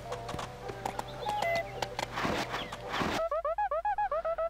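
Horse clip-clop and neighing in the Go Vacation video game at a mountain resort, with game music and jingle-like tones, then a rhythmic series of repeated bright bouncy chirps toward the end.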